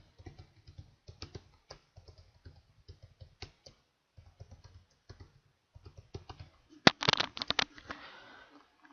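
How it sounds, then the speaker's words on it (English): Typing on a computer keyboard, with irregular soft key clicks close by in scattered bursts, ending in a louder, denser flurry of keystrokes. "So type it."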